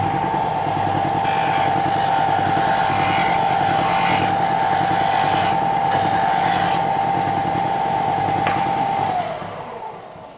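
A belt sander runs with a steady loud motor whine and abrasive rasp at close range, holding constant for about nine seconds before spinning down near the end.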